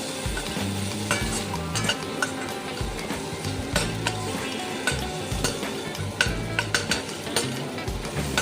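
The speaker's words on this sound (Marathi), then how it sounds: "किसलेले अद्रक घालून घ्यायचं आहे ते छान पलटवून घ्यायचं" Grated ginger fries in a pan for Maharashtrian sev bhaji while a spatula stirs it, making repeated scraping strokes and clinks over a continuous sizzle, with music playing underneath.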